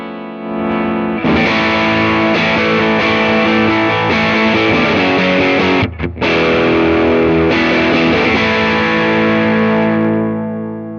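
A loud, heavily distorted electric guitar through a Supro Airwave 1x12 amp with boost on rings out in sustained chords, with a brief break in the middle before it picks up again.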